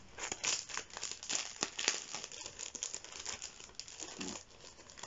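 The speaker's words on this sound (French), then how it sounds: "un petit lot comme ça de stickers notes. Donc on va les déballer ensemble." Plastic packaging crinkling and tearing as a pack of Primark sticky notes is unwrapped, a busy run of close, quiet rustles and crackles with no voices.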